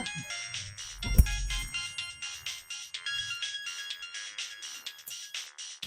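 A mobile phone rings with a melodic ringtone for an incoming call, loud and close, its tune repeating steadily with no voices over it.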